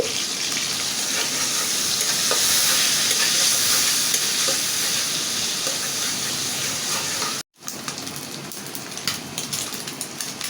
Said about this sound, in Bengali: এখন আমি চিংড়ি কয়টা ভাজি করে নেবো একটু হলুদ দিয়ে দেব